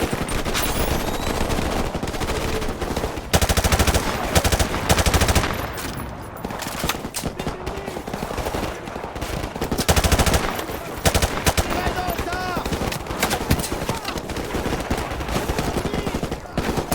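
Machine gun fire from the Call of Duty Modern Warfare Remastered video game: dense, sustained automatic bursts with heavy battle noise throughout, loud and close, with brief gaps between volleys.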